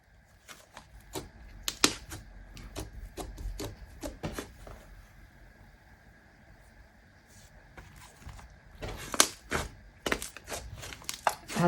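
Slime is stretched and squeezed by hand, giving bursts of soft, close popping and crackling clicks in quick clusters separated by quiet pauses, with no talking.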